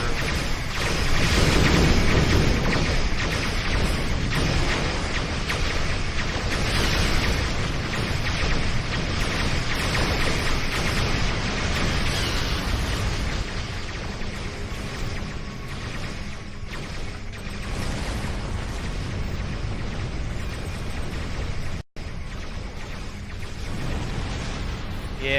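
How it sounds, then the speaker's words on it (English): Spaceship cannon fire and explosions from the Star Trek Online video game form a dense, continuous roar of rumbling blasts, loud throughout and easing slightly toward the end, with one abrupt cutout near the finish. "Yeah, these ships' cannons are pretty powerful."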